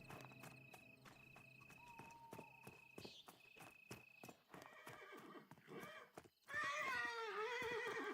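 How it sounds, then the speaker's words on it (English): A horse in the video game Pantheon clip-clops in a steady rhythm of hoofbeats, then lets out a loud, close whinny that fills the last couple of seconds. "This horse is crazy."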